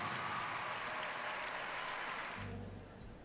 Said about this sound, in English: How about another round of applause for this great, great celebration of hula